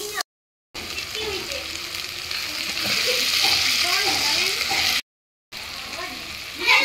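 Tomatoes frying with ginger paste and garlic in a pan, a loud, steady close sizzle with stirring scrapes, broken twice by brief silent gaps.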